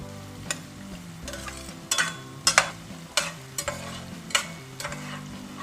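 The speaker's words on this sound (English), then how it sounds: "Now we have to cook the garlic and ginger until their raw smell goes" Garlic and ginger frying in a pan, a soft sizzle broken by sharp clacks of a spoon stirring, over quiet low sustained tones.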